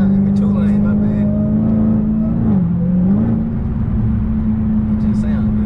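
A Dodge Challenger Hellcat drones steadily from inside the cabin while cruising, its engine note dipping briefly and rising again, with people talking over it.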